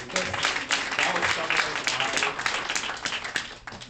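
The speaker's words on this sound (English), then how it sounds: "please give him a round of applause for that" An audience at a Bhagwat Katha gathering applauds, a dense steady wash of clapping lasting several seconds and tapering slightly at the end.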